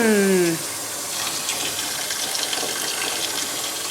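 Hot water runs from a faucet into a copper farmhouse sink, a steady broadband rush of flowing water that keeps going through the whole clip after a brief tonal squeak at the start.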